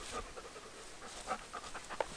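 A dog pants close by at an off-grid cabin build site in northern Canada, in quick, soft, rhythmic breaths with no talking.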